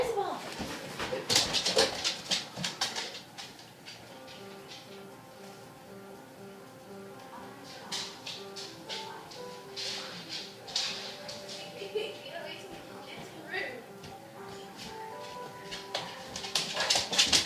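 A dog whimpers and yips in high, whiny bursts while people talk over it, the dog sounding close and the voices often louder.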